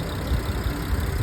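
A 2021 Infiniti Q50 3.0-litre twin-turbo V6 idles steadily, a close, even low rumble with a faint rhythmic pulse and no voices over it.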